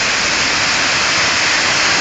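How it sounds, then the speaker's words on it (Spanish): Heavy rain in Elche floods a street so it runs like a river, giving a loud, steady, dense rush of water throughout with no pauses. "mira cómo está la calle, es un río"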